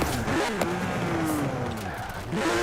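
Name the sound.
sequential race gearbox gear changes in Forza Horizon 4 video game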